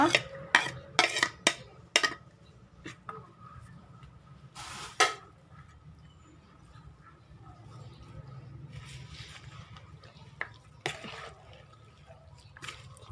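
Larb salad being mixed with chilli, spring onion and mint, a utensil clinking and scraping against a bowl in scattered bursts, with soft wet stirring between them at close range.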